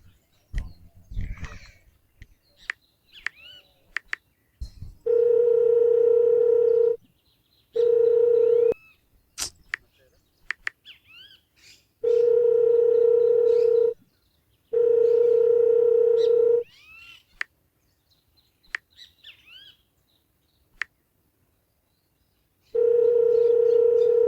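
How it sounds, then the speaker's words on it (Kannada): An unanswered phone call rings out in a repeated pattern of long tone bursts separated by silent gaps, loud and close, with faint scattered background sounds between rings. "ಇವ್ಗೆ ಎಷ್ಟದೇ ಫೋನ್ ಹಚ್ಚುದು ಮರ ರಿಸೀವ್ ಮಾಡುವಲ್ಲ"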